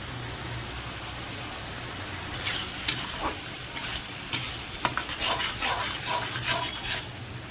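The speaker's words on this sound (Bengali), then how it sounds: "তো তাড়াতাড়ি করে চিকেনটা কষিয়ে নেব" Chicken being stir-fried in a spice masala, a steady sizzle with repeated scraping stirs that grow busier and louder in the second half, with sharp spoon clacks scattered throughout.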